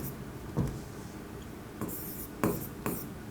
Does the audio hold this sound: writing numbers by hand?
yes